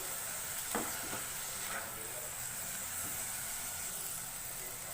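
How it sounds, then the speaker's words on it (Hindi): Tomatoes fry in a pan over a medium flame, giving a faint, steady sizzle and hiss throughout, with a couple of soft stirring clicks near the start and no talking. "एक मिनट के लिए टमाटर को भूनेंगे।"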